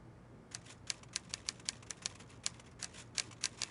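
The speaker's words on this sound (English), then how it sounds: "I say, Poirot, he seems to be typing up quite a storm." Typewriter-like typing from a detective mystery game set in a house, a quick irregular run of sharp, distinct key clacks heard alone over faint background hiss.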